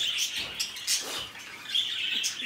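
Pet birds, including Japanese birds, chirping nearby in a quick series of high, bright tweets, several short calls close together, with no talking.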